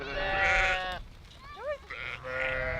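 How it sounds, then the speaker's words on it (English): Sheep bleat in a rural Kyrgyz setting as they are herded back into a barn, a couple of loud, close bleats with a thinner wavering call between them. "Urmat and Kubat are herding the sheep back into the barn"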